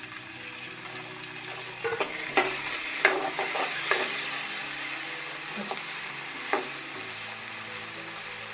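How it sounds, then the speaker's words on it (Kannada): Chopped tomatoes going into frying onions in a pan for tomato bath, with a constant bright sizzle under scattered scraping and clicking stirs of a spoon. "ಈಗ ನೋಡಿ, ನಾನು ಟೊಮೆಟೊನ ಹಾಕ್ತೇನೆ."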